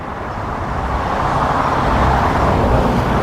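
A car drives past on Alfreton Road beside a village field, a steady, moderately loud roadway rumble that swells slightly as it goes by, with no voices.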